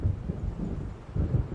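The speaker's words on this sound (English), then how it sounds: "It seems there's a storm coming." Low rumbling thunder from a storm rolling in within the Alan Wake video game, two swelling distant rolls in the low end with no voices present.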